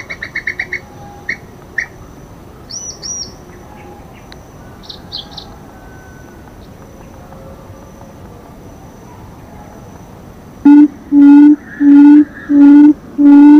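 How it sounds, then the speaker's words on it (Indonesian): Bird call sounds played for squirrel hunting, outdoors: scattered short chirps and tweets early on, then a loud run of five evenly spaced whistled calls close up near the end, with no talking. "Suara burung."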